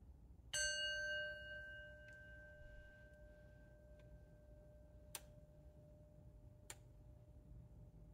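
A meditation bell rings out once, clear and bright, its long tone slowly fading, with a few soft ticks and small metallic taps afterward in an otherwise quiet room.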